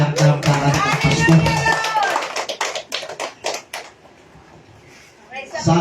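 A church congregation at a faith healing service claps in a burst of sharp, uneven hand claps that thins to scattered taps, with a preacher's voice over the start.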